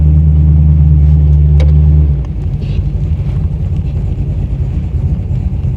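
A 500hp 1987 Chevy Monte Carlo SS V8 rumbles loudly up close, a deep steady idle that shifts into a choppier, lumpier throb partway through.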